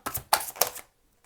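Tarot cards riffled and shuffled back into a deck, three quick dry papery bursts close by, then near silence.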